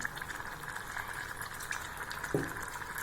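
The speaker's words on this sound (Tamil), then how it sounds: "இதில் தண்ணி நிறையா ஊற்றிடலாங்க." Water is poured into a simmering yaana pulei kulambu, a tamarind curry with a ground paste, in a Thanjavur home kitchen. It makes a steady, moderately quiet liquid rush with a soft splash near the end and no talking.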